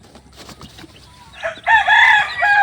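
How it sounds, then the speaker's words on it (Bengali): Local hill-country deshi chickens on a farm in the early evening, with soft clucking and scattered noises that give way to a loud, close rooster crow in the second half. "আমি আপনাদেরকে পাহাড়ি মুরগিগুলো একটু দেখাই এই দেখেন"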